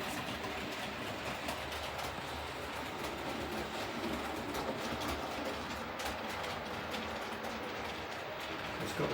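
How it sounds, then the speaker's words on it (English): An 00 gauge model train set running along its track gives a faint, steady rolling rumble with soft clickety-clack rail joints, continuous and even throughout without voices. "It's got the proper clickety-click of a real train"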